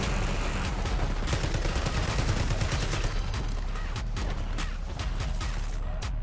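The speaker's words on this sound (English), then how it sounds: "You have an LMG, you got 100 rounds for shooting him." Sustained LMG fire from a light machine gun in the shooter game Black Ops 6, a loud continuous stream of rapid shots lasting several seconds with faint game sounds underneath.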